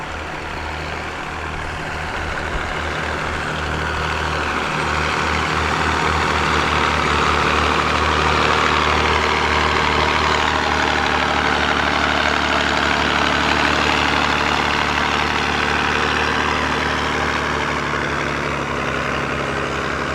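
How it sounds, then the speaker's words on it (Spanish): Tractor engine running steadily while opening furrows during a community planting in a field at Pillapi, a continuous low diesel drone that holds loud and close for the whole stretch with no voices. "En este caso tenemos lo que es el tractor, quienes van abriendo los surcos"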